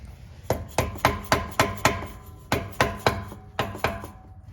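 An orange mallet strikes metal during rear differential work on a 2007 Mustang GT, giving a steady series of sharp, close knocks in two quick runs separated by a brief pause.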